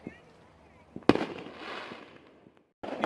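Fireworks and firecrackers pop and crackle on all sides outdoors, one loud close bang amid scattered distant reports and a sustained crackling hiss, with a voice talking faintly underneath.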